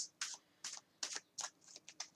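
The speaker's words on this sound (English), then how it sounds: "I'll shuffle the cards, draw us 3 cards for today, and 3 cards for the weekend." A tarot card deck being shuffled by hand, with six or seven crisp riffling bursts in a steady rhythm, close and clear with no talk.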